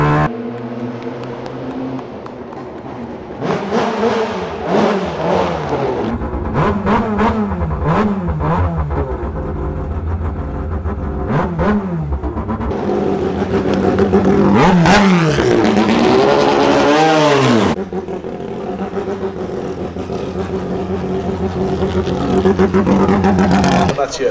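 A Mazda rotary-engine prototype race car on track, its engine screaming loud and close through repeated hard revs, shifts and roaring passes, with voices talking over it at points.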